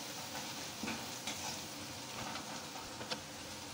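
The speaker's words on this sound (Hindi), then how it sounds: "तो सारी मसाला को थोड़ा अच्छे से मिक्स कर ले रही हूँ।" Spice masala being stirred in a pan: a quiet, steady sizzle with occasional soft scrapes of the spoon against the pan, close and alone without talk.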